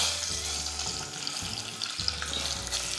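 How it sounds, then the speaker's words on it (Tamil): Egg sizzling in hot oil in a pan along with turmeric powder, a steady close frying hiss with faint stirring scrapes throughout, no voices. "முட்டையை எண்ணெயில் சேர்த்துக்கலாம்."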